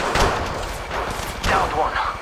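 Rapid enemy gunfire in the Apex Legends Mobile battle royale game, dense cracking shots and thuds rolling continuously at close range, with a voice talking over it.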